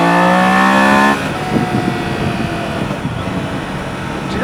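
A 2024 Triumph Daytona 660 motorcycle accelerates hard on an open road, its engine a loud, rising harmonic whine for the first second before giving way to rushing wind and road roar.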